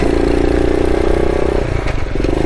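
A trail motorcycle engine drones loud and steady while riding among aspen trees, its low throbbing note holding then shifting slightly as the rider changes gear, with no talking.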